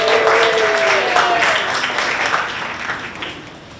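A crowd at an inaugural networking event bursts into applause, a dense, steady patter of many hands that slowly tapers off, with voices talking over it.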